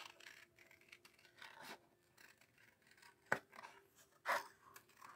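Scissors snipping paper while fussy cutting a piece for a handmade card, quiet and close, with a couple of distinct louder snips standing out from soft rustling.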